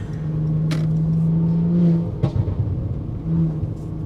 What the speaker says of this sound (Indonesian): yang kalian lihat dan mendengar sekarang itu, nuansa mengemudinya di mobil ini